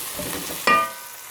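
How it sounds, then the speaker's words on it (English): Masalas for an Indian lamb curry sizzle in a pan as they are stirred, a soft scraping stir followed by a sudden louder hiss of frying that settles into a steady crackle. "Now after frying the masalas for a minute or so,"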